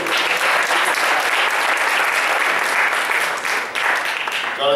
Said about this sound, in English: So a round of applause for Jonathan.